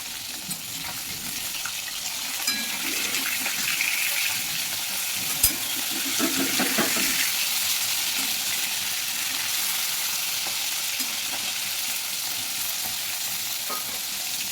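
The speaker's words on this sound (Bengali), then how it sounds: "মাছটা ভাজা হতে থাকুক।" Hilsa fish head, a fish piece and the tail sizzle and spatter in oil in a frying pan, heard up close as a dense, steady crackle. A few louder pops and the clatter of stirring break through, with no talk.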